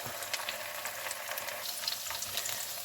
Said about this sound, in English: we're just waiting for these potatoes to brown up some